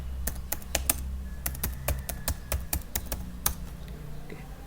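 Keys clack on a computer keyboard as a terminal command is typed in Ubuntu 20.04. The sharp, close taps come in uneven bursts, with brief pauses, over a low steady hum and no speech.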